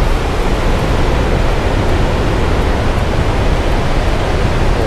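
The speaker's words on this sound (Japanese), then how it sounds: "目の前までもう海が、" Waves rolling onto a beach along a seaside drive, heard as a loud, continuous broadband wash of surf with no distinct breaks or voices.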